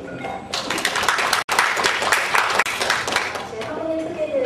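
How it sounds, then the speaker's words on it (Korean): Loud audience applause at a corporate talk as a company executive is welcomed, starting abruptly and holding strong with a brief cut partway, a voice faintly present. "큰 박수 부탁드립니다"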